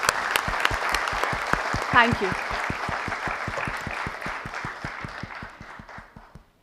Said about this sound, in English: I think the pleasant sound of the applause speaks for itself